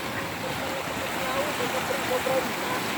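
Floodwater from a creek swollen by typhoons rushes steadily as a continuous broadband wash, fairly loud and close, with no clear talking over it.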